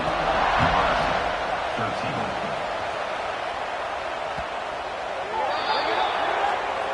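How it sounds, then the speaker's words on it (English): A football stadium crowd keeps up a broad, continuous murmur after a scoring drive, heard under a play-by-play commentator talking over it. "this crowd is buzzing after that last score"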